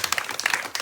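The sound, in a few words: audience clapping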